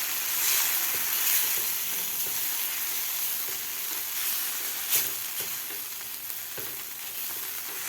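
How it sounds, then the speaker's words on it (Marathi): Tomato chutney fries on medium gas with an even, hissing sizzle, punctuated by soft irregular scrapes and taps of stirring, close up and with no one talking. "आता व्यवस्थित आपल्याला हे मिक्स करून 2 मिनिट आपल्याला हे व्यवस्थित मिडियम गॅसवर परतून घ्यायचं आहे."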